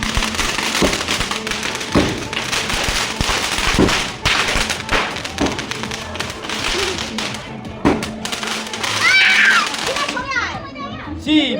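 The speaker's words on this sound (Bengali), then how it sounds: "তোমরা দেখতেই তো পাচ্ছ বাজির কোনো শেষ নেই মানে এত বাজি ফাটিয়েছি" Firecrackers bursting at a neighbourhood Jagaddhatri Puja festival celebration after the immersion, sharp pops and crackles repeating through the crowd noise while children shout and play nearby.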